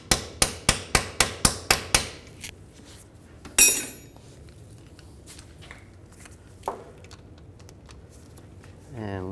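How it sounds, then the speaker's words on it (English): Seven quick, evenly spaced metallic hammer strikes driving a socket onto rusty bolts on a 2000-06 GMC Yukon rear differential cover ring out up close, followed by a louder clank and scattered tool clatter. "I'm going to hammer these on a little bit."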